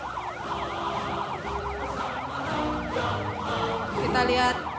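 An ambulance siren wails in a repeating rising-and-falling pattern during a military air evacuation of a victim, steady and fairly loud, with a brief sharper tone near the end.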